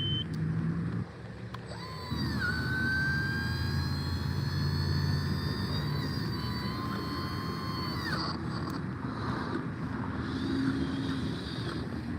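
Caterpillar heavy machine running loud and steady close by, its engine droning with a rising whine as it spins its tracks empty in a dusty yard, the drone shifting pitch midway before settling again.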